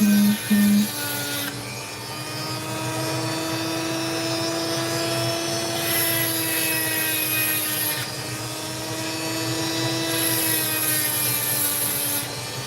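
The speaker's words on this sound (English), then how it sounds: "I'm just going to sit there and just take the sand off it. Going to rub the edges down." Opal rough is rubbed and ground at the edges to take off the sand, a steady whirring grinder drone with gritty rubbing, running continuously at close range with no talk.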